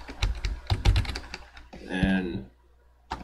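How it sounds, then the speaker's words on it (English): Rapid clacking keystrokes on a computer keyboard, a quick irregular burst of taps up close, briefly interrupted by a voice before a final key press. "I'm typing a whole bunch of letters"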